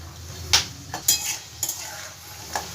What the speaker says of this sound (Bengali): আমি গ্যাসের ফ্লেমটা একদম লোতে দিয়ে এই বাদামটা ভাজি